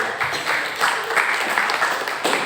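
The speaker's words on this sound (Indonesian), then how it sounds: "Kita berikan aplaus yang meriah." Church congregation applauding together, a steady broadband wash of many hands clapping with no single claps standing out, moderately loud and sustained throughout.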